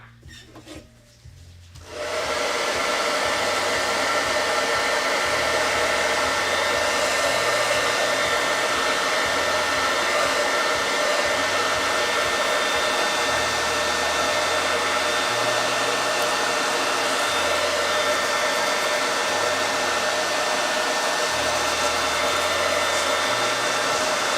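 A hair dryer blows on wet paint on a wooden Christmas directional sign, starting after a brief moment of quiet and then roaring in a loud, steady, unbroken airy whoosh that runs to the end.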